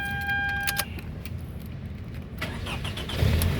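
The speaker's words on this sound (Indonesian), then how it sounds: "nah sekarang coba kita nyalakan mobil seperti itu" A 2005 Toyota Camry 2.4 G automatic car starts up after keys jangle near the ignition, its engine catching and settling into a steady idle, close and clear with no talking.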